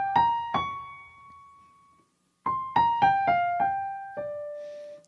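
A solo piano plays a mysterious, jazzy opening theme, a few struck notes that ring and decay, a short pause, then a quicker descending run of single notes, close and clear.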